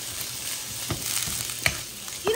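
Potatoes frying in hot oil in a pan, a steady close sizzle with a few louder bursts and scrapes as pieces settle, alone without talk.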